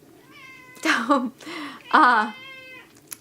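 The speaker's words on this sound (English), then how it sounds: "That's my cat, Crookshanks. No, his name is actually Boots." Boots, a pet cat, gives two clear, close, drawn-out meows in a quiet room, with a brief spoken word nearby.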